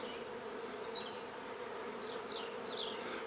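A honeybee swarm hums continuously at close range, a steady faint buzz with individual bees whining past now and then.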